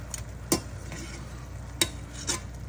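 New Orleans BBQ shrimp being flipped in a sizzling pan: a constant frying hiss punctuated by three sharp utensil clacks as pieces are turned, close and without talking.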